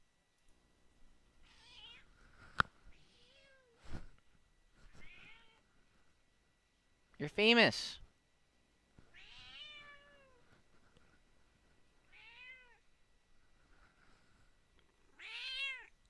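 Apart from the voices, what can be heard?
pet cat meowing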